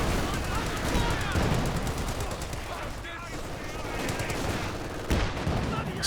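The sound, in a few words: sniper and rifle gunfire in Company of Heroes 2 video game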